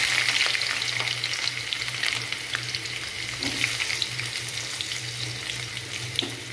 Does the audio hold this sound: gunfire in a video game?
no